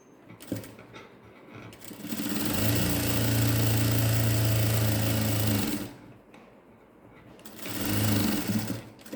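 A sewing machine stitches a ladies' pant with elastic, running in a loud steady whir for about three seconds and again briefly near the end, with quieter pauses between runs.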